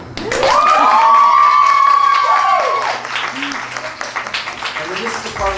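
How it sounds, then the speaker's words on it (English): Audience at a live singer-songwriter concert in a small venue clapping and cheering, a loud burst of applause with whoops that gradually thins into scattered claps over a few seconds. "This is where you clap"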